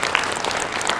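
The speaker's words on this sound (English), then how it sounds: "It's a big round of applause." Audience clapping after a school theater performance of The Snow Queen at Holy Redeemer School in Missoula, a brief burst of dense, even applause from a crowd, steady and fairly close with no talk over it.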